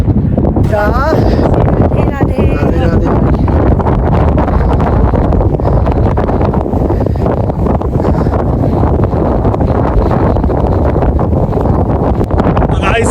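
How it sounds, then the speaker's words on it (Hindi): Strong icy wind roars continuously across a snowy Himalayan mountainside in Uttarakhand, loud and buffeting the microphone throughout, with brief voice fragments near the start. "आप लोग देख सकते हो कितनी तेज हवाएं चल रही है"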